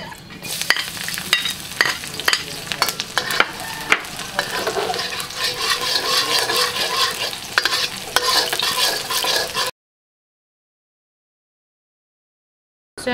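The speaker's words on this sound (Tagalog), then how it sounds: "Magigisa na po tayo." Meat and onion hitting a hot oiled pan on an Astron glass stove, a loud continuous sizzle with scraping stirs and clatter for about ten seconds before cutting to silence.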